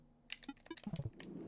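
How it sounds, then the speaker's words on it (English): Rapid little clicks of a switch being toggled in the video game Animal Well, a short run of close, crisp ticks that builds into a steady patter over a soft background hum. "it's definitely clicking. Something is getting switched"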